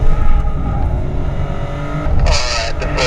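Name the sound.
BMW 750i with Autobahn package driving on track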